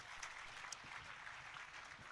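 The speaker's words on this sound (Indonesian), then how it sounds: "tepuk tangan untuk kita semuanya" Applause from an audience at an Indonesian religious gathering with a wedding couple present, a steady, faint wash of clapping that runs the whole moment with a couple of sharper claps standing out.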